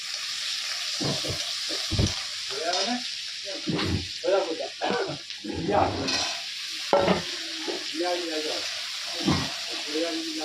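Fish and chillies fry in a pan with a continuous close sizzle and repeated stirring scrapes, while voices talk over the cooking throughout.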